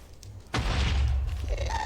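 An explosion in the video game Minecraft goes off with a sudden deep boom, followed by a rumbling tail that fades over the next second.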